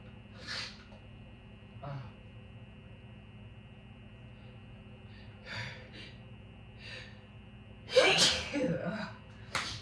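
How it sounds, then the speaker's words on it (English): Several sneezes come one after another, spaced by quiet breathing and gasps, ending in a louder burst of sneezing close by. "I always sneeze in multiple. Sometimes I sneeze like 5, 6 times in a row."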